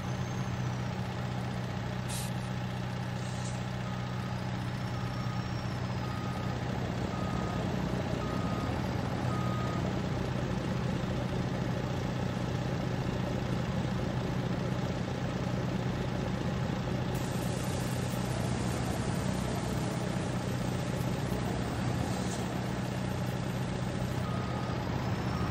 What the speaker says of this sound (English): Wow, that was a full truckload of topsoil, right around 20 tons.